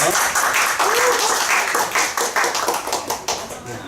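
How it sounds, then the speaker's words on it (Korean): A church congregation claps together during a worship service, loud and steady rhythmic clapping filling the room throughout. "박수 한번 치고 했으면 좋겠습니다."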